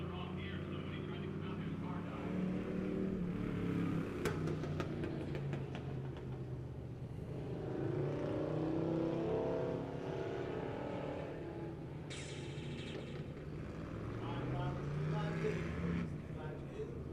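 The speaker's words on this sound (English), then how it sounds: "Nice burnout." Pure stock race car doing a tire-spinning burnout at a dirt oval speedway before a heat race, its engine droning and revving steadily throughout, with a crowd and announcer voice mixed in.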